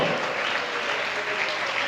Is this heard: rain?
no